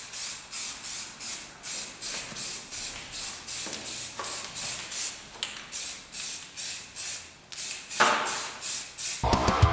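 A light primer coat being sprayed from an aerosol can onto a Miata wheel, rhythmic short bursts of hissing spray, about a dozen evenly spaced, close and fairly loud, with a longer burst near the end.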